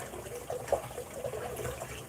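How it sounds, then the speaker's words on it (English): A cleaning brush rinsed in a basin of water while washing water bottles, giving soft sloshing and splashing with a few small bursts, fairly quiet and close. "we're going to rinse the brush off"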